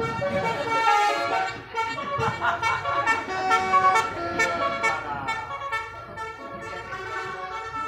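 A car or bus sounds a musical telolet horn on a roadside street, with repeated melodic toots over steady traffic rumble, fairly close and loud.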